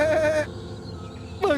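Goat bleats as a film sound effect in a Bollywood horror movie: a loud wavering bleat opens, then quiet room tone, and a second bleat rises sharply at the end.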